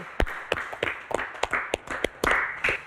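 A studio audience on a health show claps for Teh Nur, a scattered run of sharp, separate hand claps, near and moderately loud, with uneven gaps between them.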